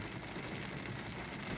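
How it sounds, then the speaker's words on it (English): Heavy rain pours down in a dense, even roar of drops striking surfaces, close and continuous with no voices over it. "it's raining harder now"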